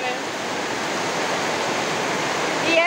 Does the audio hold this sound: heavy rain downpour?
yes